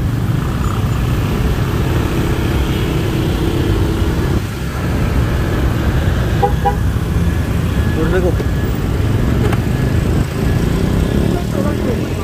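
Heavy nighttime traffic jam on a Jakarta road near Bundaran HI, with a steady loud rumble of engines and road noise throughout and a few faint horn blips in the second half.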